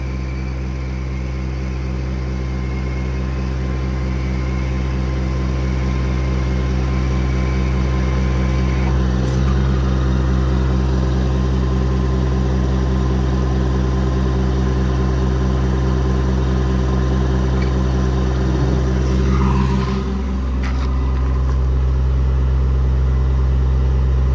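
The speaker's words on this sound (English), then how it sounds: "Now your outriggers are deployed." Hydraulic outriggers extend and lower on a 2016 Ram 5500 Cummins diesel service truck with an EnPak unit, heard as a steady, loud engine-and-pump drone that runs throughout, with a brief shift in tone near the end.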